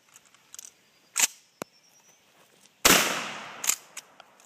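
A single loud blast from a sawed-off 20 gauge Winchester pump shotgun fired outdoors, sharp onset with a decaying tail, after a few faint clicks and small handling sounds.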